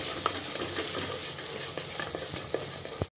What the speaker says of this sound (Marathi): हे पाय मी हळद घालते आणि आता आपण अशी परतून घ्यायची।